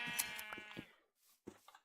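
A few short sheep bleats from Minecraft, wavering and nasal, sound close by with brief gaps of silence between them.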